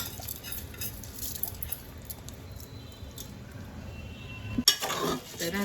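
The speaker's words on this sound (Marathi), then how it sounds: "आता हा भात पण चांगला ना मसाल्यामध्ये चांगला एकजीव करून घ्यायचा आहे." A spoon stirs washed rice with sautéed vegetables and masala in a pan, making soft, continuous scraping that ends in a sharp clank of metal against the pan.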